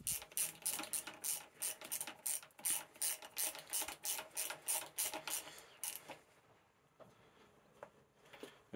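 A ratchet socket wrench clicks in quick rhythmic bursts while tightening a clamp, about a dozen loud, close strokes before stopping, followed by quieter handling noises.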